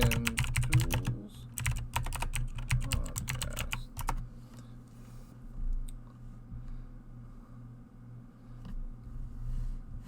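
Quick bursts of typing on a computer keyboard, close and clattering at first, then giving way to a quieter stretch of faint room noise with only occasional clicks.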